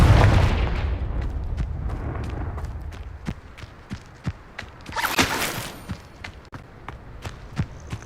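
A fire spell explosion in Hogwarts Legacy opens with a heavy booming blast that decays into rumble, followed by a run of sharp rhythmic impacts and a second bright burst midway.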